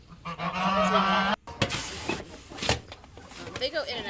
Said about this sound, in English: This is where the geese stay.